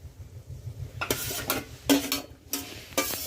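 Onion paste is stirred in a cooking pan, with a soft background sizzle and a series of distinct scraping strokes at roughly even intervals.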